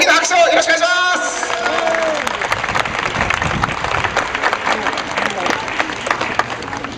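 Spectators clap and cheer after a post-match interview, dense applause with occasional shouts and whoops after a voice at the start.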